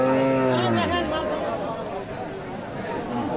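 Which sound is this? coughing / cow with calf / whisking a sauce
cow with calf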